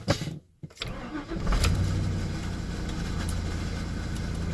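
A Chevrolet Silverado truck engine cranks and catches after an oil change, then settles into a steady, close idle.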